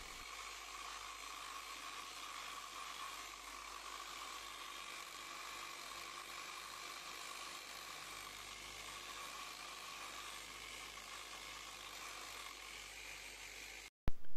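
A car polishing machine buffing scratched paint, a steady close whir that holds even and unbroken for the whole stretch, then cuts off abruptly near the end.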